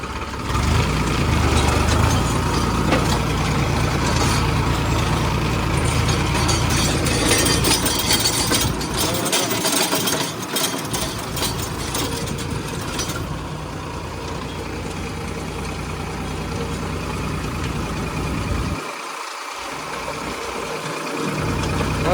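A tractor engine drives a rotavator through a dual PTO at about eleven and a half to twelve hundred RPM, a loud, steady mechanical drone that holds throughout.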